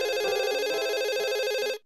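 A mobile phone rings with a steady, repeating electronic ringtone, loud and close, sounding alone for nearly two seconds before cutting off abruptly.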